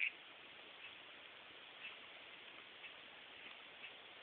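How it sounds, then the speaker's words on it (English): Rain falling outside at night, a soft, even hiss of steady drizzle with no other sounds. "yeah, it's raining, so I won't be sleeping out in the hammock tonight"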